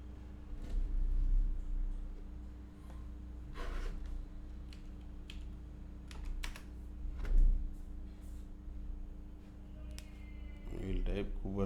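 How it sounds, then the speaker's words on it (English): Computer keyboard typing comes in scattered bursts of quick clicks, fairly faint under a steady hum, while someone talks and breathes between the keystrokes. "We will type Kubernetes here."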